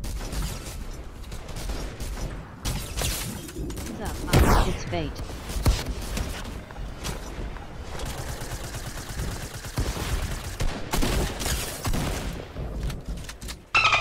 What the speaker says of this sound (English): That gun is really hard to shoot fast.